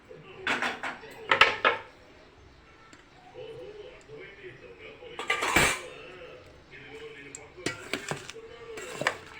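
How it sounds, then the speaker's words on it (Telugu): A spoon clanks and scrapes against a metal vessel while tempering is mixed into lemon rice, bursts of clatter and a sharp knock between quieter stretches, with a voice talking in between. "పోపును కూడా దీనిలో వేసుకొని కలుపుకుందాం"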